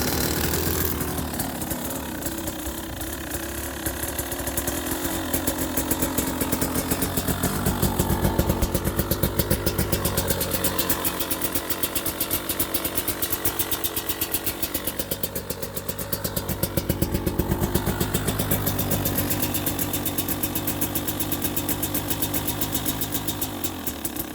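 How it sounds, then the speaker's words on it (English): A 2020 KTM 300 XC TPI two-stroke dirt bike on a cold morning near -2°C, choke on, runs continuously from a cold start into a rattly, uneven idle, loud and close with no talking. "after changing the oil, it's always a good idea before I get to the trail to start her up"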